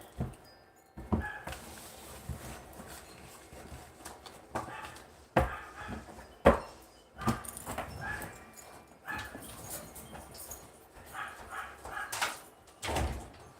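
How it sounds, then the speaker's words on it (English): A dog barks in several sharp, irregular bursts at moderate distance, with scattered knocks and thumps between the barks in an indoor room. "No bark!"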